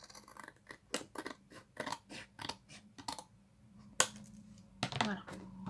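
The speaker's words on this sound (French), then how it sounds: "je préfère faire au ciseau. Voilà, donc je coupe là également." Scissors snip through paper for a handmade Christmas card, a quick series of sharp close cuts with short pauses, then a couple of louder snips and rustles near the end; no one speaks.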